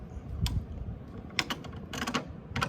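Ducati 916 Monoposto motorcycle kickstand clacking back up, a few sharp short metallic clicks and knocks at close range over faint background, no speech.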